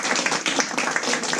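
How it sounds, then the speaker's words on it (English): A small theater audience at a comedy show claps for a short moment, a close, busy patter of individual claps with uneven rhythm, no voices over it. "Round of applause,"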